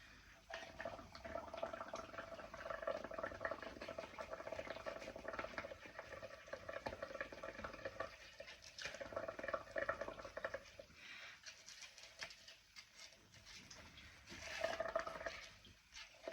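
Air being blown into pottery glaze, giving a faint, continuous bubbling and gurgling froth that carries on through the whole stretch with small surges, close and quiet, no talking.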